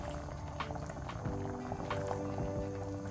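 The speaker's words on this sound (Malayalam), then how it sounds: "നല്ല കട്ടി തേങ്ങാപ്പാലാണ് ചേർത്ത് കൊടുക്കുന്നത്" Thick coconut milk poured into cooking tapioca for a Kerala butter kappa dish, giving a soft, steady liquid bubbling and pouring sound, close and low in level, running continuously without pause.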